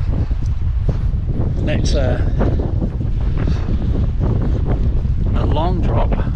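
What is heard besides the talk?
wind blowing on the microphone outdoors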